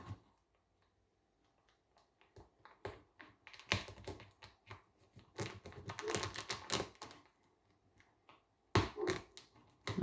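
A knife cuts into the plastic bag of an oyster mushroom grow kit, giving scattered close crackles and taps with short bursts of crinkling, with quiet pauses between.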